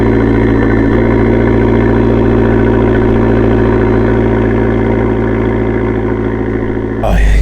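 A 2013 Fiat 500 Abarth idles close up, its engine and exhaust giving a loud, steady, throbbing drone that holds evenly throughout before a sudden knock or thump right at the end.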